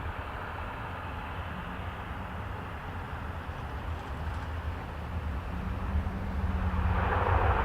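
A Dash turboprop airplane at Toronto Pearson gives a broad, steady roar that swells louder toward the end as it takes off from the runway.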